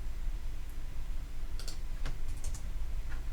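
A short burst of light clicks on a computer keyboard as a number is typed into a running Java program, a few sparse keystrokes over a quiet room hum.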